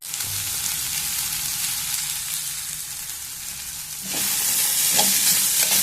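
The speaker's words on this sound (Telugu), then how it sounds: "గోబీని కూడా కొద్దిసేపు బాగా వేగనిద్దాము" Cauliflower florets sizzle steadily as they fry in a pan for gobi fried rice, a continuous loud crackle that swells brighter near the end as stirring adds scraping bursts, with no voices.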